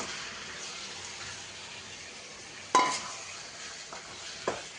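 Chicken being stirred into a cooked-down tomato and green chilli gravy in a pan, with a faint steady simmer and a few soft scraping strokes of the spoon, close and quiet, no talking.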